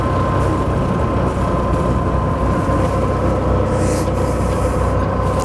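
Steady marine engine drone from a Sirius 310 DS sailboat as throttle is pushed while maneuvering under power, a continuous loud low rumble with water wash, no talking.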